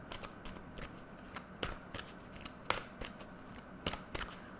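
Oracle cards are shuffled by hand in a quiet room, producing a string of soft riffles and crisp slaps at irregular intervals, close and faint.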